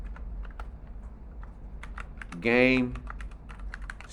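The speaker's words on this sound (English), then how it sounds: "Use the space bar if you're typing it in here." Quick, light keystrokes clatter on a computer keyboard during an online programming class, scattered clicks running through the whole stretch, with a brief burst of voice in the middle.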